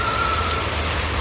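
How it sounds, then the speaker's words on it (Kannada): Heavy rain falls steadily outdoors, a dense, even hiss of close downpour that fills the whole brief moment with no break. "ಫುಲ್ಲು ಮಳೆ ಬರ್ತಾ ಉಂಟು"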